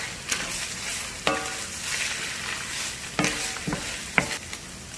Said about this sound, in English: we'll add our chopped garlic in. You don't want to add it in too soon because the garlic can burn. So we'll stir that around